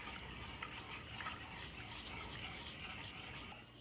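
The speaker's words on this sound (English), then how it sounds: "just start whisking" A whisk scrapes and stirs steadily through simmering enchilada sauce in a pan, a soft continuous rasping swish that runs unbroken.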